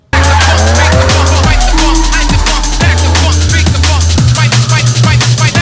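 Drift car skidding through a street-league training run in Klaipėda, tires squealing hard over a loud, steady engine roar that shifts pitch with gear changes and throttle bursts, close and continuous, no talk.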